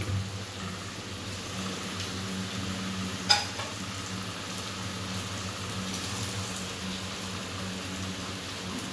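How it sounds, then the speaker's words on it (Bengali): Masala frying in oil in a pan for a Bengali fish curry with potato and lentil dumplings, stirred now and then: a steady, close sizzle throughout, with one brief metallic clink partway through and no talking. "মশলাটা আর একটু জাস্ট নাড়াচাড়া করে নেব। আমাদের মশলা থেকে দেখো তেল ছাড়তে শুরু করেছে।"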